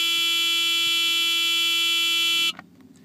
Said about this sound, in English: the buzzer is very annoying